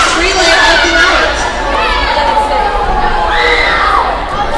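A crowd cheers and shouts loudly at a middle school swim meet before the final relay, children's voices yelling and whooping over a dense, continuous roar of chatter in an echoing indoor pool.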